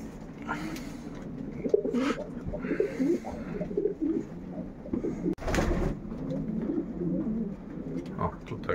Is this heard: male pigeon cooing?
yes